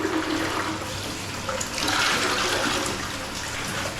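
A toilet flushes loudly up close after its syphon is replaced, with rushing water filling the bowl in a full continuous surge that swells midway and settles into a steady refill.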